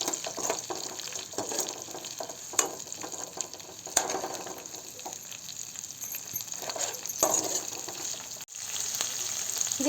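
Banana flower sautés in oil for a village-style Tamil curry, giving a continuous hissing sizzle with scattered stirring knocks and scrapes close by.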